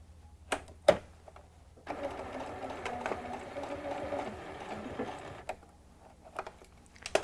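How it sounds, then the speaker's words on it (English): A domestic sewing machine runs along a crease in home-decorating fabric in a steady burst of stitching of a few seconds, framed by sharp mechanical clicks and handling knocks before and after. "Now let's go sew."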